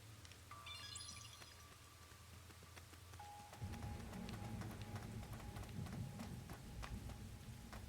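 Steady rain and a low rumble of thunder from the video game Master Detective Archives: Rain Code, faint and continuous, with the rumble swelling partway through beneath soft tonal game sounds.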